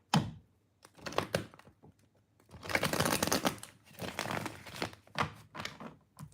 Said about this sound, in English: Let's shuffle the cards very well for you, Beverly.